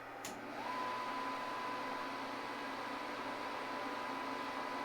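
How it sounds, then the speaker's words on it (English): A Chugger or Blichmann Riptide brewing pump switches on with a brief click and then runs with a steady, even electric whir and a faint high whine throughout, close by and alone. "Start the pump."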